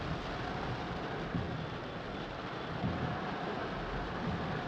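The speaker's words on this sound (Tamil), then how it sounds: "நல்லா பெய்யுது பாருங்க மழை." Heavy rain pours down in the forest country around Wayanad and Tholpetty, a steady, loud wash of drops with low rumbling underneath, constant and unbroken.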